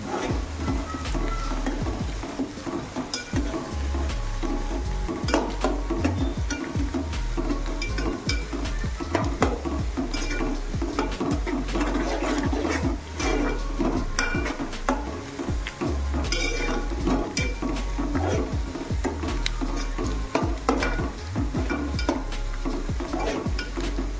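Onion, crushed garlic and chili sautéing in oil for a rustic Maharashtrian zunka, with a steady sizzle and repeated spoon stirring and scraping against the pan throughout.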